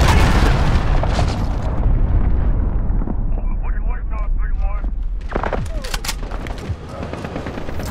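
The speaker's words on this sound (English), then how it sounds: "get enemy cruise missile incoming" An enemy cruise missile strike in Call of Duty: Modern Warfare at Hackney Yard bursts into a loud, close booming explosion with heavy rumbling debris, followed by scattered gunfire and crackling as the blast rolls on.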